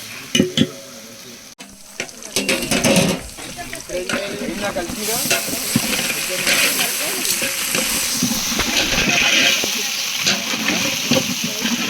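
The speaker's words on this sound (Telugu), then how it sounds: "ఈ అల్లం వెల్లుల్లి పేస్ట్ పచ్చివాసన పోయే వరకు మనం ఫ్రై చేసుకోవాలి" Ginger garlic paste frying in a pan, a loud continuous sizzle with stirring and scraping, some clatter of utensils early on and voices talking over it in the background.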